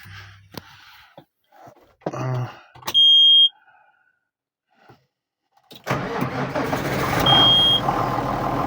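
A John Deere 6610 tractor after starter repair: short bursts of cranking and a beeping tone, a pause, then the engine catches and runs loud and close with a steady rumble.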